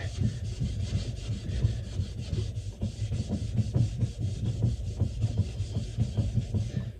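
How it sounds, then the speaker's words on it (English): Polishing a waxed ski base, a rapid series of rhythmic brushing strokes close up, steady and fairly loud with a raspy, rubbing texture, no talking. "So really give it a good polish with this step."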